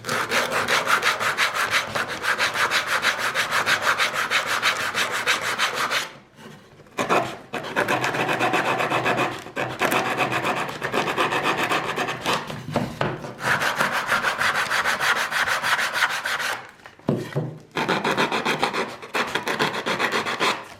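A wooden board's edges being rounded by hand with a rasp or file, steady scraping strokes running close and loud, broken by a few short pauses.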